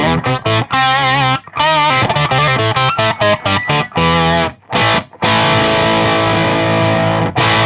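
A heavily processed, distorted electric guitar through a BOSS OC-3 Super Octaver pedal with direct level at maximum plays a fast run of notes, then lets a thick, sustained chord ring out, loud and upfront.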